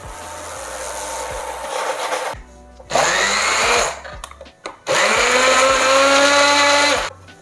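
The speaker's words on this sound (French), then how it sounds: "On va mixer ensuite à l'aide d'un mixeur plongeur notre coulis." Immersion blender whirring through a red fruit coulis, two long loud bursts of motor whine with rising pitch, separated by short pauses and a brief stuttering start.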